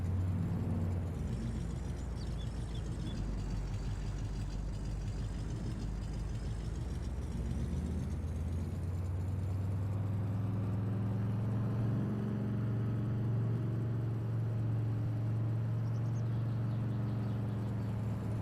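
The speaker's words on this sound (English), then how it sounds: "If a truck's too loud, you guys gotta let me know and I'll turn the vehicle sound down" A low, steady truck engine drone in Farming Simulator rumbles continuously, even and unbroken, with a faint whirring layer above it.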